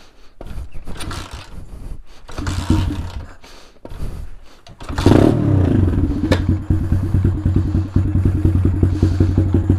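A Taotao DB17 125 dirt bike is started after a few throttle pumps and small clunks; at about five seconds the engine catches and settles into a steady, loud, close idle putter.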